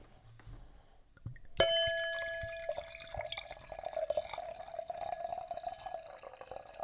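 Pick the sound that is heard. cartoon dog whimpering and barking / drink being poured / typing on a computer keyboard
drink being poured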